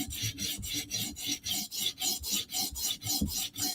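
Sharpening strokes of a Lynch titanium Shaman knife with an M4 steel blade drawn across a stone: a steady series of about a dozen rhythmic, close rasping scrapes, evenly spaced and alone.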